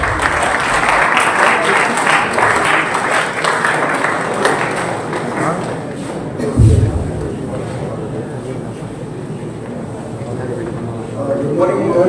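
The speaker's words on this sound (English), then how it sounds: "Audience, please give them a round of applause." Conference audience at a university event giving a round of applause, a dense wash of clapping that fills the room for several seconds, then thins and fades as a voice speaks over the tail.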